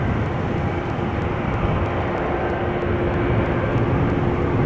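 A departing airliner climbing out from runway 18 Left at Amsterdam Schiphol, a steady, loud broadband roar of jet engines that holds constant throughout with no voices.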